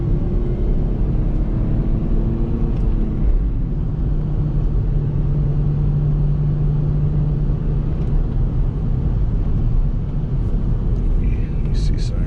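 Lexus IS300 with a five-speed manual gearbox cruising on the road, its engine rumble a steady low drone throughout, with voices talking over it.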